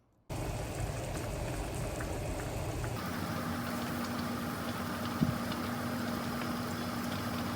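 A pot of chicken and gravy simmers on the stove with a steady bubbling, rushing hiss that continues evenly throughout, close and fairly loud, with a low hum underneath and no talk.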